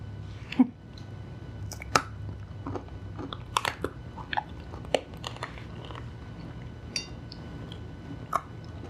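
Crunchy dried banana chips from Trader Joe's Savory Banana & Nuts trek mix being chewed close up, with sharp irregular crunches scattered over several seconds against a low background hum.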